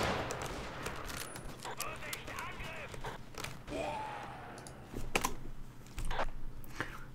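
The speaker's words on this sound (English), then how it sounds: "Somebody else is shooting at me though." Gunfire in Battlefield 1942 with the FinnWars mod, sharp scattered shots and short bursts cracking at irregular intervals through a busy battle, the loudest volleys coming near the end.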